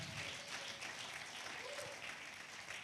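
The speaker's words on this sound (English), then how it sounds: "If you clap louder, he will come faster." A live audience claps steadily in welcome for an ICT director arriving on stage at a Nigerian coalition event, dense applause sustained throughout with no speech over it.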